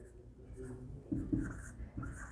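A teacher writes a number on a board, giving a few short scratchy strokes and taps at close range, with faint background noise between them.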